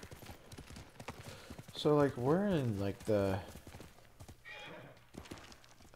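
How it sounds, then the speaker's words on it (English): A horse in the video game Ghost of Tsushima whinnies loudly in a long rising and falling call over clip-clopping hooves. A player talks over the game audio. "There's my horse."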